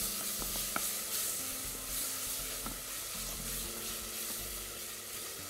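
Eggplant fries with onion in a pot, making a steady, dense sizzle throughout, with a few faint clicks from stirring.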